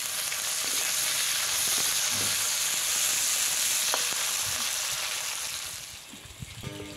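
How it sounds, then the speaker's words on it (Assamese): Onions crackle and sizzle in leftover oil from frying fish, a continuous bright hiss with small pops, easing off slightly toward the end as a few stirring knocks come through. "বাকী থকা তেলখিনিতে মই অলপমান পিঁয়াজ ভাজি লৈছোঁ"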